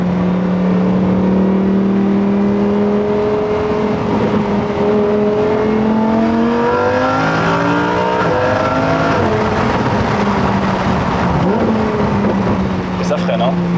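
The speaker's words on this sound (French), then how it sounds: "Elle te fait un talon pointe magnifique." Lamborghini Huracan Performante V10 engine heard from inside the car on a road drive, loud sustained harmonic tones rising and falling through revs with quick blips that suggest heel-toe downshifts, while people talk over it.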